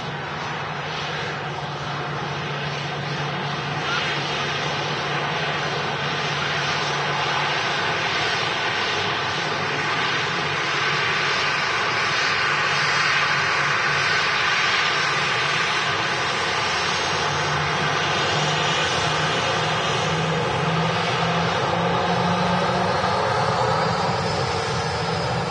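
A Kuwait Airways jet departs Manchester Airport, its engine roar loud and sustained, swelling and shifting slightly in pitch as it goes, with no talk over it.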